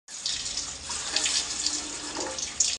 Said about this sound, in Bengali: জল চলে এসছে বন্ধুরা, বিকালের এটা টাইমের জল, এটা হচ্ছে ট্যাঙ্কির জল